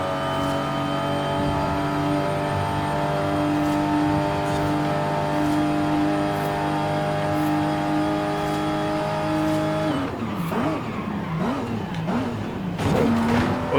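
Inline-six engine of a 1993 Nissan Skyline R33 in Forza Horizon 5, heard from inside the cab: a steady, loud hum for about ten seconds, then rising and falling revs as the car shifts and accelerates, with no talking.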